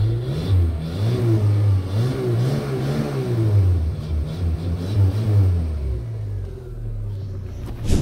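A car engine, smoking heavily, revs up under acceleration with a deep rumbling drone that rises and falls in pitch, close and loud, before settling back to a lower idle.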